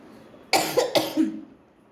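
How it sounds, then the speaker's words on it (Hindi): Two or three quick, close coughs in a quiet room, loud and dry, fading into a brief throat rasp. "सॉरी, ये रीडिंग करते समय मुझे खांसी अचानक से बढ़ गई"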